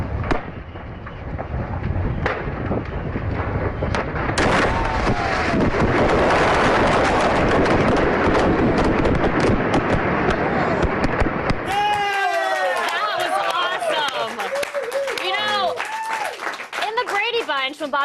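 Fireworks set off by a factory fire crackle and burst in dense, continuous volleys, loud and close. Around two-thirds of the way through, the bursts give way to crowd cheering, shouts and whistles that continue to the end.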